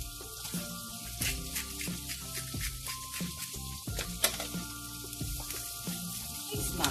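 Herring fries in a pan with oil, giving a busy, close sizzle full of sharp pops and crackles that spit irregularly over a constant hissing bed.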